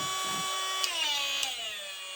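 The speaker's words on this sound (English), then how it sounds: "This sounds about like the Dremel Micro I have now, so not a surprise, it's a Dremel." A cordless Dremel nail grinder whirs steadily at high speed, its pitch dipping slightly partway through, close and moderately loud with no talking.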